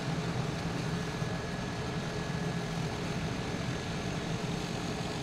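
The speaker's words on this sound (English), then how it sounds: "So as I'm taxiing on up, I'll get to the end of the runway" A Lear Fan 2100 pusher-propeller aircraft taxiing in Microsoft Flight Simulator, a steady droning engine and propeller hum with low rumble, constant and unbroken throughout.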